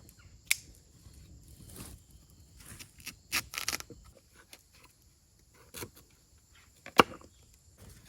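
A knife chops through a sweet potato on a board at an outdoor campsite, giving sparse, sharp cuts with a loud crack near the end, spread over quiet pauses.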